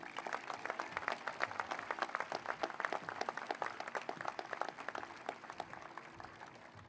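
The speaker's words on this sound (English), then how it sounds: "please join me in a round of applause for all of our local scholarship sponsors" High school graduation audience in 2026 applauds local scholarship sponsors, a faint but dense, sustained wash of many hands clapping from a distance, steady throughout before thinning slightly at the end.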